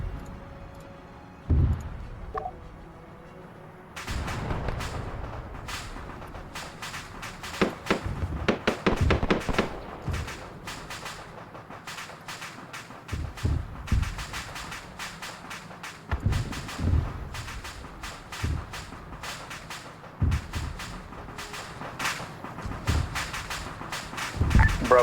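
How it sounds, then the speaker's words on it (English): Mortar shells land and burst inside a compound during a combat game operation at Henderson Airfield, a long run of sharp cracks and thuds, some close and loud, others fainter, in irregular clusters over background noise. "There's mortars dropping inside the compound."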